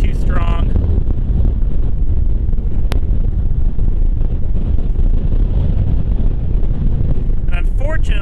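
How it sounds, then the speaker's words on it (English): Strong wind buffeting the microphone at White Sands, a steady loud roar and rumble throughout, with brief voices at the start and end. "because the wind's too strong"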